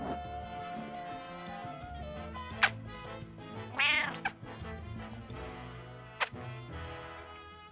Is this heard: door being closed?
no